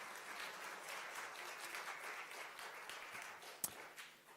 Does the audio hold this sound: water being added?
no